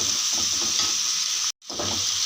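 Tomatoes with salt fry over a low flame in a pan, a loud continuous sizzle with stirring scrapes, broken by a brief cut to silence before the sizzle resumes.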